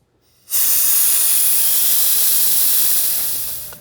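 Compressed air suddenly bursts through a clogged water-cooling tube on a CNC spindle, a loud, steady, close hiss that holds for about three seconds and then tapers slightly.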